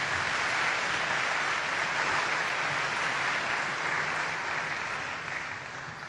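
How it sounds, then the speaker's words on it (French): An audience applauds loudly and steadily, a dense wash of clapping that fades slightly toward the end. "Applaudissez d'abord très fort."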